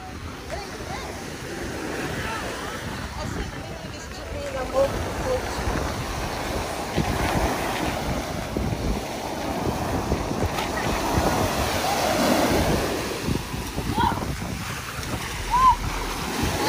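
Surf and gusting wind at a beach, a steady broadband wash with swells rising and falling throughout, wind buffeting the microphone and faint voices underneath.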